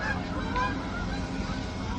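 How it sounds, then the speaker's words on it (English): A flock of geese honking loudly as they fly overhead outdoors, the calls dense and continuous through the whole stretch with no one talking. "Do you guys hear the geese? They're flying overhead, they're so loud."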